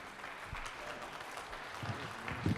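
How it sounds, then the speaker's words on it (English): An audience at a business community event applauds a presenter, a faint, steady patter of many hands clapping with a few louder claps near the end. "Round of applause, member. Clapping."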